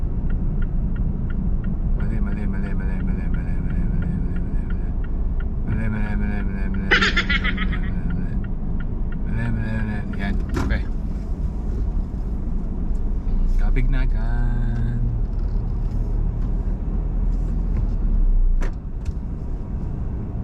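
A car creeping through heavy traffic near a school in America, with a steady low engine and road rumble throughout, while people inside talk and laugh over it.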